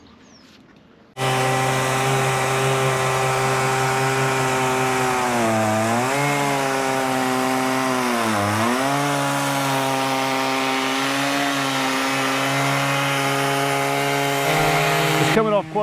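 A chainsaw runs loud and steady for a long stretch, its engine pitch dipping twice as it bites into Alaskan cedar.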